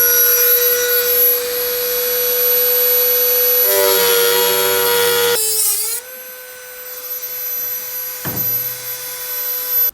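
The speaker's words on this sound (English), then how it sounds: "this is a very small and very thin discs, and it's easy to cut these little edges" A Dremel fitted with a very small, thin cutting disc slices through the metal edges of a car's lower front outer sill, a steady high whine joined by a harsh buzzing bite partway through, then the tool spinning down.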